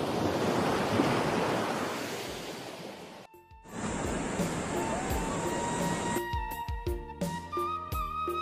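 Ocean surf rushes and breaks in a broad wash at Pangandaran Beach, Indonesia, wind buffeting the microphone, then the roar continues beneath scattered bumps and handling noises.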